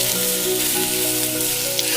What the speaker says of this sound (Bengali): এই পাতিলের মধ্যে তেল দিয়ে রসুন আর পেঁয়াজ দিয়ে দিছি